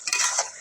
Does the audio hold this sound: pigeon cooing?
no